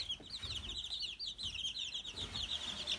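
Three-week-old baby chicks in a shavings-filled brooder give a steady stream of soft, high, overlapping peeps and chirps, close but faint, over low rustling.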